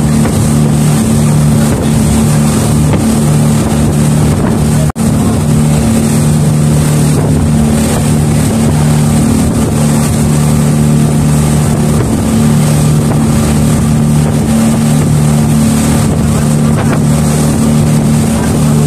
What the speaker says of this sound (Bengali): আমরা আছি স্পিডবোটে